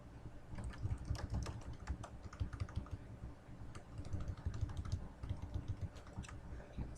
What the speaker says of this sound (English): See what I'm typing.